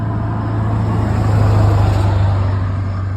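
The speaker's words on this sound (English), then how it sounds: "the background noise with the cars and the traffic passing" Car traffic passes outside as a loud, steady low engine rumble and road hum, swelling slightly in the middle as a vehicle goes by, with no speech.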